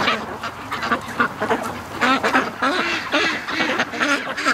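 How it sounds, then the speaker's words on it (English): Ducks, including a Muscovy, quack repeatedly and close by in a dense, uneven chatter of short honking calls, with no voices. "Ducks never stop eating."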